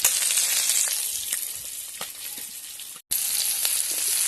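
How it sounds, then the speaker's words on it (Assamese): Singhi fish fry in oil in a pan, giving a bright, steady, close sizzle with faint pops, briefly cut to silence for a moment before the sizzling resumes; no one speaks. "মাছ ফ্ৰাই কৰি আছোঁ"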